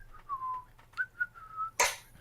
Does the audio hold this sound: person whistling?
yes